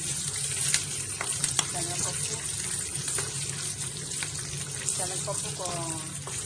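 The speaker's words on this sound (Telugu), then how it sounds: "పోపులు అన్నీ వేయించుకున్నాను." Chana dal, peanuts and garlic sizzle and crackle in hot oil with a continuous bright hiss, while faint clinks and a trickle of water sound in the background.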